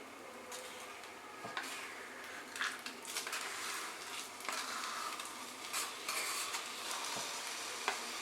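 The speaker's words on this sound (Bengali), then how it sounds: "গুড়টা দেওয়ার পরে কিন্তু আমাদের এটাকে নাড়তে হবে আর নারকেলের সঙ্গে একটু মিশিয়ে দিতে হবে।" Jaggery stirred into coconut frying in a pan, with a quiet steady sizzle and repeated soft scraping strokes and occasional light clinks of a spatula, no voices.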